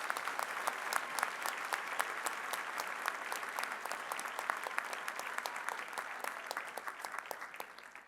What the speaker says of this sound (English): give a huge round of applause to Dr.